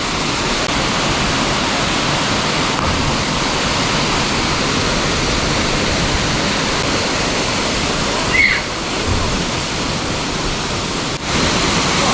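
A Hawaiian waterfall roars in a steady, loud wash of falling water heard up close, continuous throughout with a few brief splashes and bumps.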